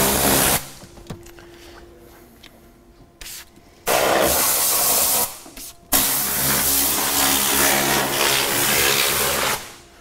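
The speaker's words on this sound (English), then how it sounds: "So, the top star, I'm doing like three or four sprays right on the panel." Top Star detailing spray misted onto a car's rear door panel in a few bursts, each a broad hiss lasting a second or more with short pauses between, close and fairly loud.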